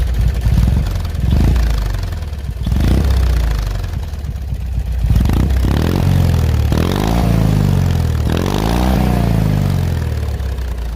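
A custom lawn mower hot rod tractor engine fed through a quiet 2-inch exhaust pipe runs loudly and steadily close by, repeatedly revving up and settling back to idle with a smooth, muffled burble.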